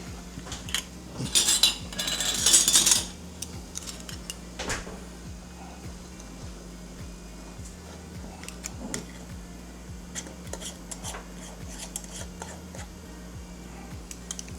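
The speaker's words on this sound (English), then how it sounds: "Now we will put our lids on, get the rings on." Metal canning lids and rings being handled and screwed onto glass jars of homemade BBQ sauce, giving a burst of bright metallic clatter early on, then scattered light clicks and taps over a quiet hum.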